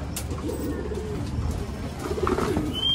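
Soft, low cooing of pigeons under a steady outdoor hum, rising slightly toward the end, with a faint distant voice.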